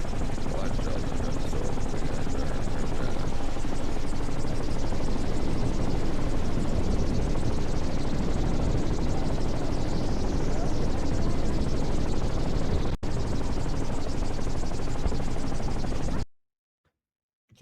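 A gyrocopter (autogyro) flies nearby, its rotor and engine giving a loud, continuous buzzing drone that holds steady for about sixteen seconds before cutting off, with voices mixed beneath it.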